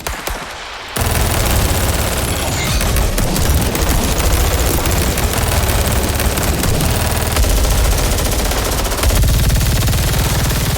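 Loud, continuous rapid gunfire, like machine guns and rifles firing together in a dense, unbroken barrage with booming low end throughout.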